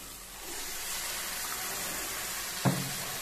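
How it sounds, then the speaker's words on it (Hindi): Water poured into frying masala for soya chap gravy, a steady soft hiss and sizzle close by, ending in a brief louder splash. "इसमें अब जाएगा थोड़ा सा पानी"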